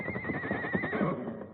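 A splendid brown and white horse, tethered near a lodge, whinnies in a long wavering neigh over a dense, busy background of rumbling sound.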